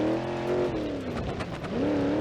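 A go-kart engine in BeamNG.drive held at high revs, its buzzing tone dipping and climbing again over a couple of seconds, loud and close with no talk.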